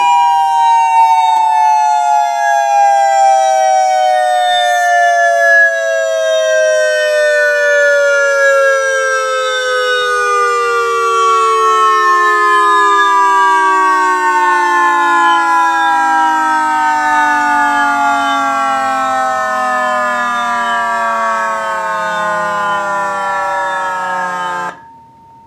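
Whelen electronic siren driven through a speaker, winding down in one long continuous descending wail that falls steadily in pitch for about twenty-four seconds, loud and close, then cuts off abruptly.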